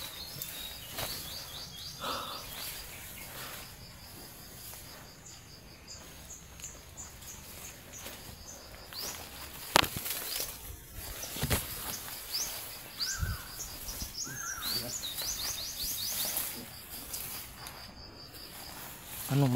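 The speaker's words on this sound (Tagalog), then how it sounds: "Huni ng ibon yan" Birds call and sing repeatedly outdoors in the Philippines, with bright chirps and short whistled phrases over a steady buzz of insects, while people talk intermittently nearby.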